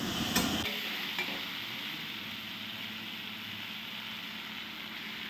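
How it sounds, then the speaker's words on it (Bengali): Spice paste being fried and stirred in a pan after potatoes makes a steady low sizzle with a couple of sharp scraping knocks near the start, then an even hiss to the end, with no voices. "এবার মশলাটা কষাচ্ছি"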